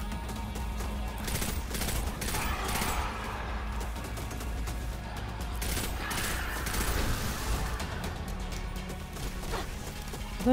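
Gunfire in the shooter video game Destiny, with rapid bursts and crashing impacts running steadily through the whole stretch at moderate loudness.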